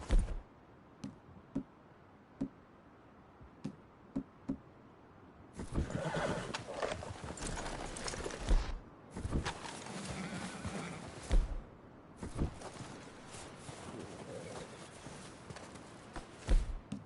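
Horses in Red Dead Redemption 2 give intermittent clip-clop hoof knocks and a whinny. Busier game ambience and rustling sounds follow, with no speech.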